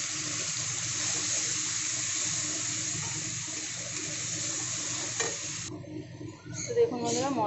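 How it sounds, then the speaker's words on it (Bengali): A ground spice paste sizzles in oil with whole cumin as it is stirred in a pan for vegetable masala rice, a steady close frying hiss with scraping strokes that thins out near the end. "মশলাটাকে কিন্তু বেশ নাড়াচাড়া করে ভালো করে কষিয়ে নিয়েছি"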